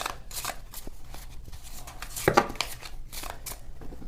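Tarot cards being shuffled by hand, a steady papery riffle and slide of the deck running throughout, with a couple of sharper snaps near the middle, close and fairly quiet.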